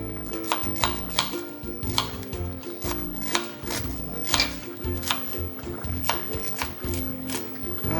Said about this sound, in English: Next, I'm going to add some onions, and I'm going to do about half of onion too.